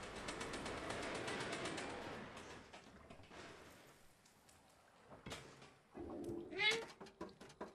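A cat meows a few times amid quiet clattering and rustling in the video game Stray, the final meow sharp and clear near the end.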